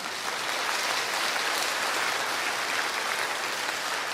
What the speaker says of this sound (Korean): 우리 자축에 박수 한번 합시다.